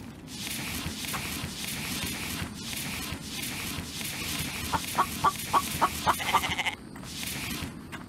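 A game chicken clucks in a quick run of short, evenly spaced notes near the middle, over a busy background of fowl and bleating animal sounds in a survival world.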